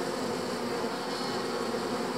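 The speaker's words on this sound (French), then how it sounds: "Je reviendrai un peu plus tard voir si les abeilles se sont calmées." Honeybees hum at a hive just after two colonies were merged into one, a steady dense buzz filling the air with no pauses and no voices.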